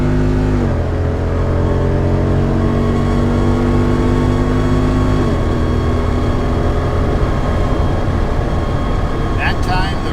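Jeep Wrangler 392 V8 accelerating hard from 0 to 60, engine loud and close with rising pitch, shifting at redline with two clear drops in pitch as gears change.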